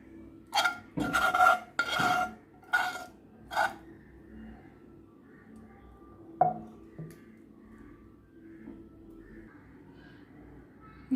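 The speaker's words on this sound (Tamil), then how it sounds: "வேறு ஒரு இதில் பிளேட்டில் போட்டு இதை பிசைய போகிறேன்" Boba pearl dough being kneaded and pressed on a plate: a cluster of short scraping, rubbing strokes early on, close and fairly loud, then sparser faint scrapes and rustles.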